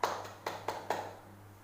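Applause for a student in a classroom, a few sharp, separate claps spaced about a quarter second apart, close and moderately loud, fading out quickly.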